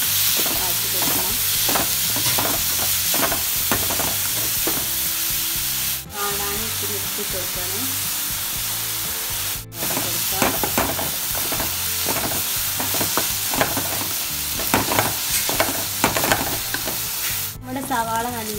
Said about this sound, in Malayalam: സൺസാരം ഒഴിച്ചിട്ടുണ്ട്. അതിലേക്ക് ഈ ഉള്ളി ഇട്ട് കൊടുത്തിട്ടുണ്ട്.